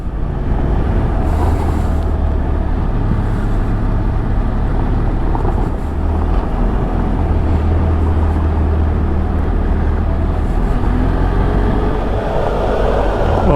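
A vehicle rolls along a gravel road through hilly country, a steady low engine drone and tyre rumble with a continuous gritty crunch underneath, close and unbroken for the whole stretch.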